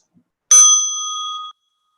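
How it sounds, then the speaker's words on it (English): A meditation bell is struck once, giving a bright, loud, clear ring that sustains for about a second and cuts off, with silence around it. "As you listen to the bell,"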